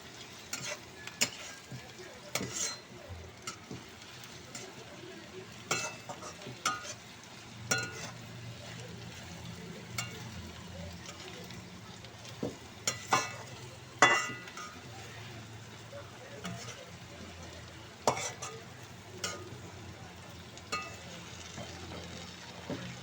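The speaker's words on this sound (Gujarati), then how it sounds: "એટલે આપણે એને હલાવ્યા કરીએ ને એટલે આમ કરકડિયા જેવા થઈ જાય." Bombay duck fries in a pan for chutney while being stirred, a soft continuous sizzle broken by repeated scraping and clinking strokes of the spoon against the pan over about twenty seconds.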